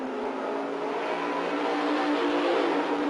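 Race cars at Danbury Race Arena during a heat race, a continuous loud engine roar from the field with no letup, heard at a distance with no talking.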